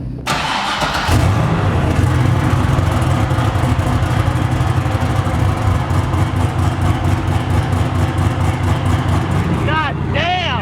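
A turbocharged LS6 V8 in a Volvo runs hard on a dyno, a loud, continuous engine roar with a rough, misfiring pulse, ending in a brief rev change.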